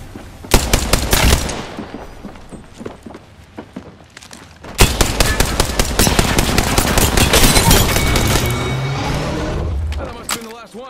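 Rapid automatic bursts from the Spitfire light machine gun in the Apex Legends battle royale game, a short volley, a pause, then a long sustained stream of close, loud shots layered with game effects.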